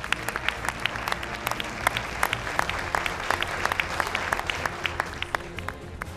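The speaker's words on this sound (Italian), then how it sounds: "un grande applauso per la vostra partecipazione" An audience at the Miss Europe Continental 2015 beauty pageant applauds the contestants, with steady sustained clapping and a few sharper individual claps standing out over the crowd throughout.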